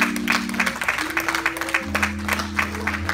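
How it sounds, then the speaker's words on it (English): A church congregation claps hands in praise, a dense, continuous burst of applause over sustained organ chords, with voices faintly mixed in. "Give the Lord a hand clap of praise."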